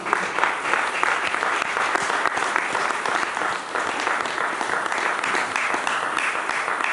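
A church congregation breaks into sustained, dense applause, loud and steady from start to finish with no speech over it.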